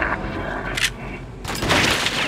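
A shotgun blast in the video game Little Nightmares 2 lands as one loud, broad burst with a rumbling tail, following a quieter stretch with a brief hiss.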